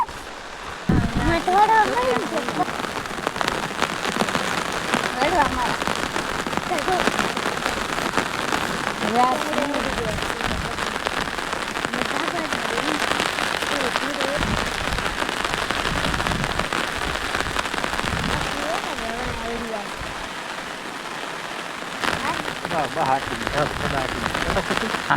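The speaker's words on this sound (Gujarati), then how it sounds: "આ બાજુ જો આવે વરસાદ" Heavy rain pours steadily over an open farm field where pigeon pea is being sown, a dense hiss lasting throughout with people talking over it at times.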